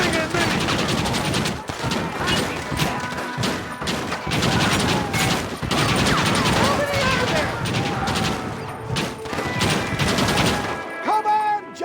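Dense, sustained gunfire from a Red Dead Redemption shootout, rapid overlapping shots and bursts crowding the whole stretch at high loudness, with voices shouting between volleys and a brief drop near the end.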